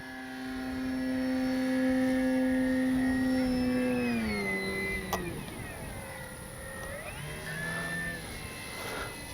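An electric 3X Flex RV8 RC airplane flies overhead, its motor giving a steady whine that drops in pitch as it passes and recedes, then rises again faintly, with outdoor wind noise beneath.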